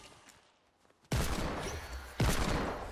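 A video-game hand cannon fires in two heavy, booming blasts about a second apart, each one cutting loudly through a faint background hum.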